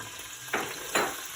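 Sausage sautéing in olive oil in a pan for gumbo gives a steady soft sizzle, with two louder hissing surges as it is stirred or shifted.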